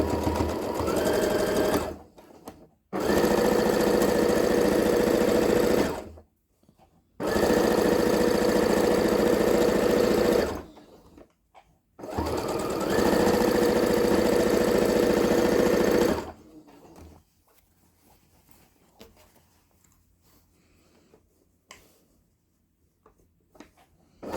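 A domestic sewing machine stitching pillowcase fabric runs in three long, loud bursts of steady whirring, separated by short silent pauses, then stops, leaving faint quiet handling noise to the end.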